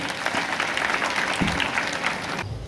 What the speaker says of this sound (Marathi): जोरदार टाळ्या वाजवूयात आपण।